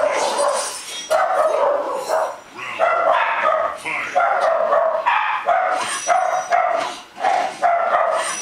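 A dog barks repeatedly in Mortal Kombat 9, a run of loud, close, evenly spaced barks and yips that carry through the whole stretch, with only brief gaps between them.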